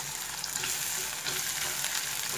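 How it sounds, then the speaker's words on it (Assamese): Onions frying steadily in hot oil, a dense continuous sizzle close to the pan with faint stirring scrapes and no voices. "পিঁয়াজখিনি যাতে আপোনালোকে ভালকৈ ৰংচোৱাকৈ ভাজি ল'ব।"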